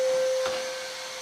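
A vacuum cleaner runs steadily at close range during a UK van build, its continuous whine holding level with a sharp tonal note, alone and without talk.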